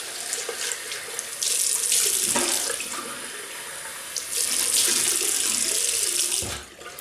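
Water runs steadily from a tap to rinse a Merkur Progress safety razor, a loud continuous gush that splashes unevenly and tapers off near the end.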